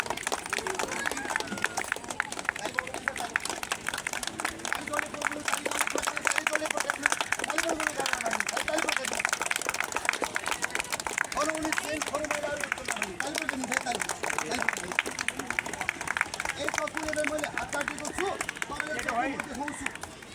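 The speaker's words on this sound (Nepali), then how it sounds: "ताली बजाइदिनुहोस् सबैले" An audience at a magic show claps steadily and densely throughout, with someone talking loudly over the applause.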